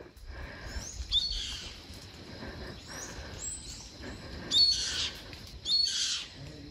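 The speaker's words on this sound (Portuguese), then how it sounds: "Tem um gavião vindo me caçar." Hawk calling in a forest near a hillside farm plot, with several high, sharp cries at intervals over a soft, steady background of insects and rustling.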